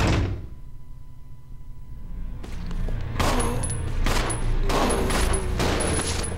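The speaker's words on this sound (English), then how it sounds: "Actually, his gun sounds like it packs more of a punch anyway." Gunshots from a weapon in Resident Evil 0 ring out as several loud, heavy blasts in the later half, each with a ringing tail, following a quieter stretch of game ambience.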